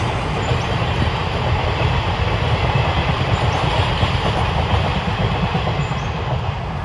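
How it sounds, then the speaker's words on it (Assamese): A train rolls past close by on the rails, a loud continuous rumble with steady rattling of wheels throughout. "ট্ৰেইন গৈ আছে"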